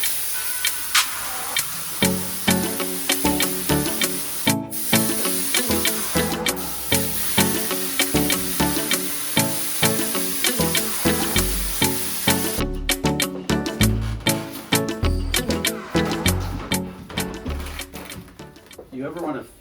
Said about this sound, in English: This is a contact adhesive, so I'll put it on the back of the seat cover and then the foam.